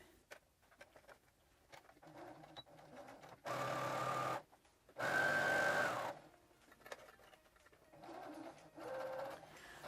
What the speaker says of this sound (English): we're just going to do a straight stitch